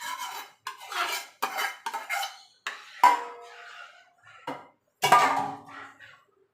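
A spoon stirring sago pearls into cold milk for a chilled sabudana sharbat dessert, giving close, repeated clinks and scrapes against the bowl in short uneven bursts with pauses between.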